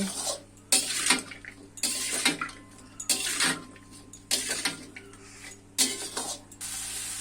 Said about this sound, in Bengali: সয়াবিন আর আলু দিয়ে আবারও ভালোভাবে কাঁঠালটা ভেজে নিব।